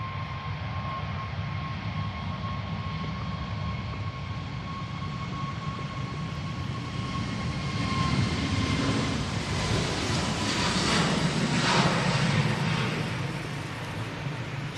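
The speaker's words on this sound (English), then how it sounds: "Jet2 A321neo going out now." Jet2 Airbus A321neo departing Manchester Airport: a distant, steady jet engine roar that swells toward the middle of the take-off run, heard alone without talk.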